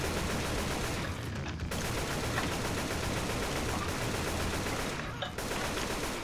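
Sustained automatic gunfire from the zombie shooter game Left 4 Dead, a dense continuous rattle of rapid shots filling the whole stretch with brief dips, loud and without talk.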